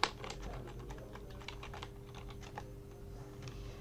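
Steady, rapid clicking of computer keyboard keys being typed on, close and fairly quiet, continuing without pause over faint room hum, with no voices.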